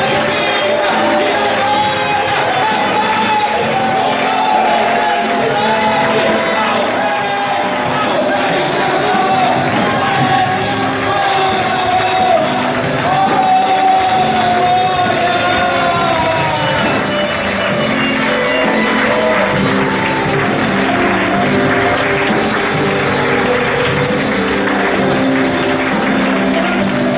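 A church congregation applauding and cheering during an anniversary service, a loud sustained wash of clapping and shouts mixed with music and voices that carries on without a break.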